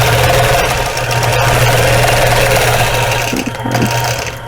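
A sewing machine quilts a strawberry basket quilt, a steady, continuous mechanical whir with a low droning hum held close and loud throughout, briefly dipping near the end.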